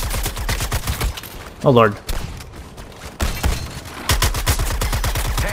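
Rapid gunfire shooting at a tank in the Suicide Squad video game, loud automatic bursts that start and stop, with a brief pause and a short pitched whoosh in between, and a voice briefly over them.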